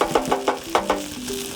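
Beans and onions fry in a pan for a coconut bean sauce, with a run of short scraping stirs over a soft, steady sizzle, close and fairly loud, no voices.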